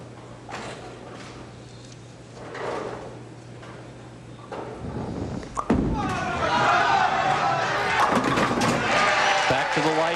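A bowling ball strikes the pins for a strike at the 1996 Ebonite Open, a sudden loud clatter of falling pins that keeps rattling, with the crowd reacting and a commentator talking earlier.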